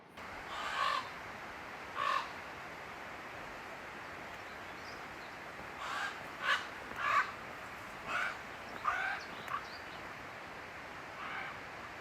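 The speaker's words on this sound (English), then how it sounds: "That's a common raven. You can tell based off of the sound, it's much more guttural" A common raven gives several deep, guttural caws at irregular intervals, moderately distant, over a steady wash of outdoor background noise.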